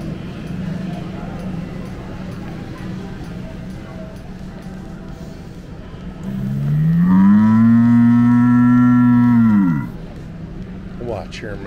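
An animatronic singing cow in a grocery store lets out one loud, sustained moo lasting about three seconds, rising over steady store background noise and chatter.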